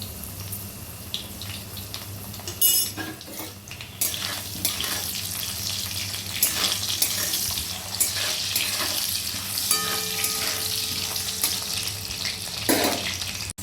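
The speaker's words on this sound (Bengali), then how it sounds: "সেই আলুটা একটু ভেজে নেব প্রথমে।" Quartered potato pieces frying in hot oil with a little salt, a steady close sizzle and crackle running the whole time with brief louder spatters and stirring, no voices.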